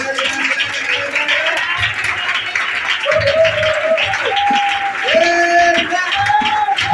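A church congregation applauds and acclaims the Lord with steady, dense clapping mixed with voices that rise in loud cries and sung shouts, continuous and close throughout.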